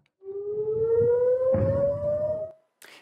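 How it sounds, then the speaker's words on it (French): Air raid alert siren wailing in Tel Aviv, one loud rising tone sustained for over two seconds with rumbling noise beneath, then cutting off, followed by a brief burst of noise. "Et les sirènes d'alerte qui retentissent sans discontinuer."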